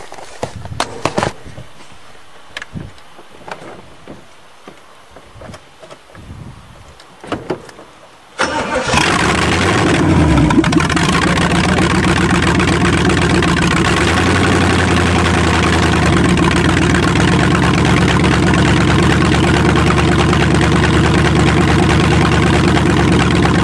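An old car, the David's Farm Cheviac, cranks and fires on a cold start, then settles into a loud, steady, rough idle that runs on continuously after a few quieter moments of shuffling and faint sounds.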